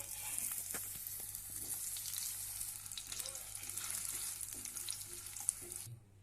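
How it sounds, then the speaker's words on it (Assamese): Potatoes fry in oil in a kadai with a soft, steady, continuous hiss that cuts off just before the end. "ইয়াতে মই আলুখিনি ফ্ৰাই কৰি ল'ম।"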